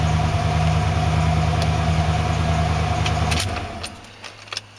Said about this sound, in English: Okay, it did start that time, and sometimes this truck just plain won't start